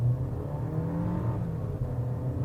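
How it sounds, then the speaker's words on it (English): Changan CS75 Plus engine in sport mode drones and builds under hard acceleration, a steady low roar from inside the cabin, loud and continuous without talk. "you could hear the engine sound roaring like you have a supercharged V8"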